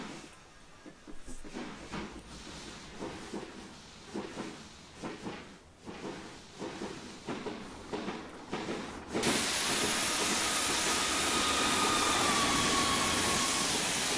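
A BR Black 5 steam locomotive in Train Simulator 2015 on the Western Lines of Scotland gives rhythmic chuffs and knocks that break into a loud, sustained steam hiss.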